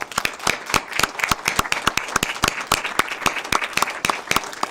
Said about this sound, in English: give them a round of applause for their participation